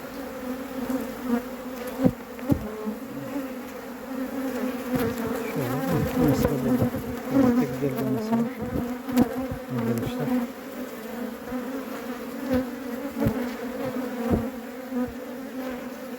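Honey bees buzz steadily and densely at an open hive while being fed sugar syrup, a continuous close swarm hum with small bursts of movement and no talking.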